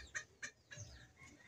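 A chicken gives three short, sharp clucks spaced evenly across the clip, then a softer call, close to the microphone and loud over quiet low background noise.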